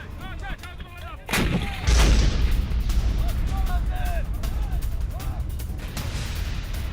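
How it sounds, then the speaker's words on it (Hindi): A blast breaching a wall, heard as a sharp, loud boom followed by a rumbling low-end surge and lingering debris noise, with voices speaking excitedly before and after. "विस्फोट से दीवार तोड़ने का ये वीडियो सामने आया है"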